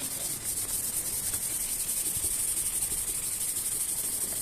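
A wooden stock of a Fionda model 80 CO2 rifle is sanded by hand, giving a steady, close, continuous rasping hiss with no speech.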